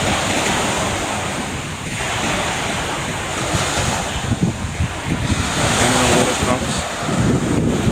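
Sea waves roll and wash onto the Black Sea shore while strong wind buffets the microphone, a loud continuous roar with swelling surges.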